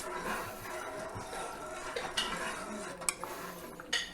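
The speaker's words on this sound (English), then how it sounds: "And then we're just going to stir this up." Sugar stirred into black tea for home-brew kombucha, with a quiet run of spoon clinks and light scraping against the vessel, a few sharper taps standing out near the end.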